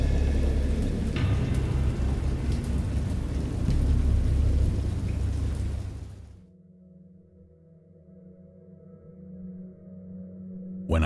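Heavy rain pours with deep rolling thunder in a Dagon game storm scene, loud and dense at first, then cutting to a quieter low rumble with a few soft tonal murmurs.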